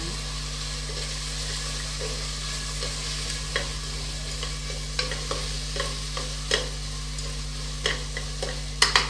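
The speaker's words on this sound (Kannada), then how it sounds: "ಟೊಮೆಟೊ ಹಾಕಿದ್ದೀನಿ ಟೊಮೆಟೊ ಒಂದೆರಡು ನಿಮಿಷ ಫ್ರೈ ಆಗಲಿ" Chopped tomato and onions fry in a pan for ridge gourd bath, making a continuous soft sizzle with repeated spatula stirring and scraping over a steady low hum.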